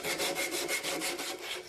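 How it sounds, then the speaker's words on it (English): A rasp and file rounding over the tops of wooden rustic furniture posts make a steady, close rhythmic scraping, with about nine repeated strokes in quick succession. "Round over the tops of the posts with rasp and file and sandpaper"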